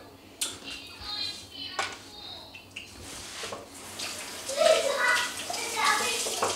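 Running water rinses a small cup or glass at a kitchen sink while a piña colada is prepared, a steady splashing flow that grows louder in the second half, with a voice speaking over it.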